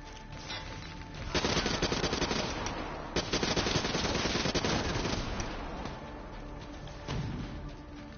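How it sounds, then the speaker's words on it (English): Gunfire from the Black Ops 3 campaign, a video game, comes as dense, rapid automatic bursts that run almost continuously, loud and close, with no talk over them. "Oh, that's another gun."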